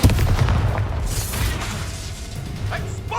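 Bombarda spell blast in Hogwarts Legacy during the Victor Rookwood boss fight, a booming impact with crashing debris up front, followed by rumbling battle noise and scattered magical effects.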